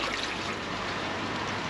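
Water pours steadily into a garden pond, a continuous rushing splash with no breaks and no voices over it.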